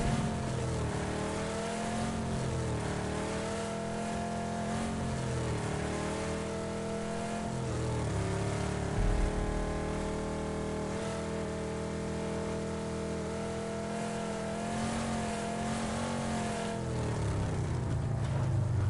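Car engine driving in PUBG on the Vikendi map, a steady loud motor drone with shifting revs that rise and fall throughout, running alone without talk.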